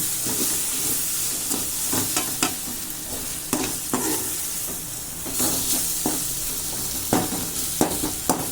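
Ginger garlic paste sautéing in a pan for capsicum gravy, a strong continuous sizzle broken by repeated spatula scrapes and taps at an uneven rhythm, close and fairly loud with no talking.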